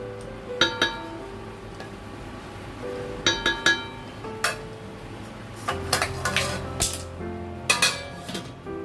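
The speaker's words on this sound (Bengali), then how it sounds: "মাঝে একবার নেড়ে দিচ্ছি" Metal clinks and scrapes of a spoon stirring basanti pulao in a covered pot, with scattered sharp knocks against the rim in irregular bursts, close and fairly loud.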